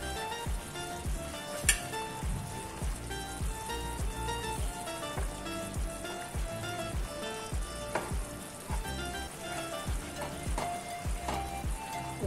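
Moong dal halwa sizzles steadily in a pan over a low flame while a spoon stirs and scrapes it with repeated knocks, close and continuous, with no voices.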